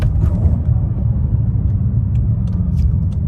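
Steady low rumble of a BMW M5's exhaust burble, a continuous loud drone with faint crackles on top, heard up close and alone.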